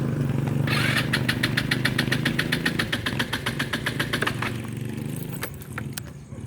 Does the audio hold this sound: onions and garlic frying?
no